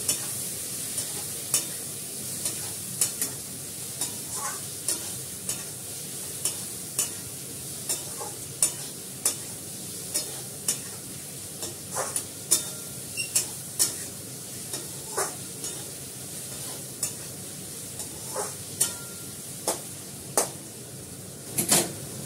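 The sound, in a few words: onions frying and being stirred in a pan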